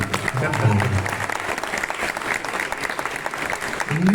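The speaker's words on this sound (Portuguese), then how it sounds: "Uma salva de palmas pro Koji Shimizu." Audience applause for Koji Shimizu at a fan event, a steady crowd clapping throughout with voices murmuring and speaking beneath it.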